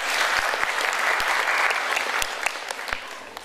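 Applause from the audience at an inspirational talk show in Semarang, a full, continuous wash of clapping with a few sharper individual claps standing out, loud and close.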